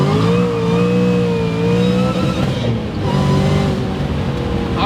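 A 1000 hp Ford Mustang Shelby GT500 accelerates hard, its engine roaring loud and close with rising pitch through the gears, one brief dip in note as it shifts, then pulling on.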